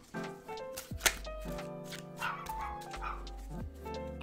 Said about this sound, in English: It's my dog in the background.